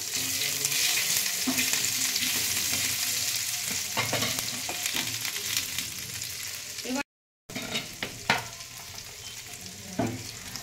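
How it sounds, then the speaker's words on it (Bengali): Whole tempering spices and grated ginger fry in hot oil, a loud steady sizzle with stirring scrapes and clicks from a utensil, briefly cut out before resuming slightly softer. "এবার ফোড়নটা একটু ভাজা হোক।"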